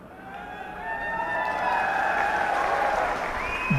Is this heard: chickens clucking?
no